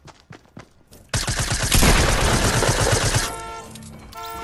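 Suppressed SMG fire in Fortnite Battle Royale: a few isolated muffled shots, then a long rapid rattling burst, close and loud, tapering into softer game sounds.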